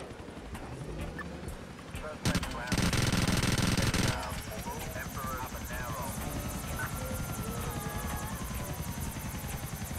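Annihilator helicopter rotor whir with a loud burst of automatic gunfire in GTA IV, the rapid shots dominating for about two seconds before the helicopter drone continues with scattered game sounds and faint voices.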